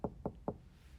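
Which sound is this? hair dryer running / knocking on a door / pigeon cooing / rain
knocking on a door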